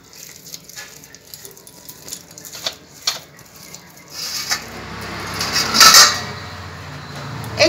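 Ripe palm fruit pulp is rubbed against a chhanta grater, starting as faint scattered scrapes and knocks, then swelling into a louder, steady close-up rasping grind.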